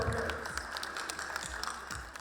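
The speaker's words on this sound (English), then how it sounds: "Please give them a warm round of applause." Faint, distant applause from an audience at a Korean National Day celebration, honoring a king and queen, as a thin continuous patter of clapping with no voices over it.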